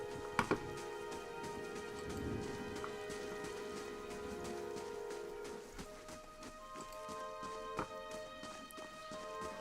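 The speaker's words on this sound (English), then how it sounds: "Hopefully the rain will die down." Rain falls steadily in the fantasy video game Pillars of Eternity, a soft continuous patter under a low game soundscape with a few light clops and clicks.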